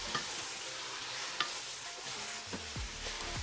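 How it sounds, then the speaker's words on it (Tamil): Mint and coriander sautéing in a Dindigul biryani pot, a steady sizzle under occasional sharp scrapes and clinks of a stirring spoon against the pot, with no talking. "பாதி வெந்ததுக்கப்புறமா அது கூட புதினா கொத்தமல்லி 2 கைப்பிடி அளவு சேர்த்து அதையும் நல்லா வதக்கிக்கோங்க."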